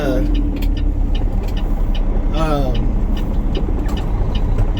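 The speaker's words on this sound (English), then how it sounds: "this road does have a bit more traffic" Road traffic passes along a fairly quiet road near Sacramento at 7:30 in the morning, with a steady close vehicle rumble throughout and a passing car whooshing by midway, heard under ongoing talk.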